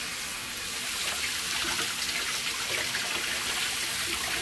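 Water pours and splashes steadily over painted metal coated in heat color-changing automotive paint, a continuous close rushing trickle with no voices.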